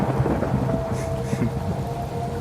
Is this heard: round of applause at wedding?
no